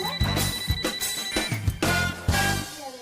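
A telephone bell rings in repeated short bursts for an audio drama scene, a close, bright electronic ring pulsing in a steady rhythm with no talk.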